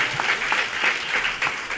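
Audience applause at an inauguration ceremony for a multipurpose hall at a community centre, a steady dense clapping that fills the room evenly, with no voices over it.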